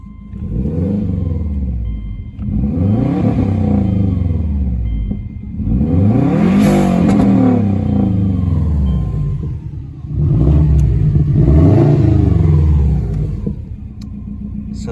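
Subaru Outback XT turbo with an aftermarket exhaust rumbles loudly and close, rising in repeated revving sweeps, four deep surges each climbing in pitch before dropping back, with no voices.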